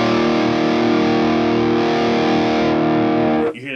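An electric guitar runs through an overdrive pedal with the pedal gain turned up, giving a loud, saturated chord that sustains evenly for about three and a half seconds before cutting off abruptly.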